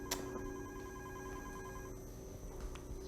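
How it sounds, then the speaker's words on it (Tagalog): A telephone rings faintly in a Filipino drama scene, a soft electronic ring heard twice over a low room hum. "Sir, telepono po daw."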